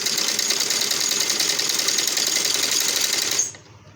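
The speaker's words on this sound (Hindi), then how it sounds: "ये मैंने सिलाई लगा के आपको दिखा दी" A simple domestic sewing machine runs steadily, stitching fabric at a constant fast whirring rhythm, loud and close, alone without voices, then stops abruptly near the end.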